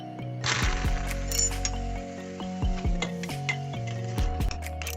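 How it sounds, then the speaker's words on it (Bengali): A hot gas burner dropped into a bowl of water sets off bursts of crackling sizzle, with clinks and knocks of metal against the bowl as it settles, close and fairly quiet. "এবার এই গরম বার্নারটা তুলে নিয়ে ওই বাটিতে জলের মধ্যে ছেড়ে দিচ্ছি"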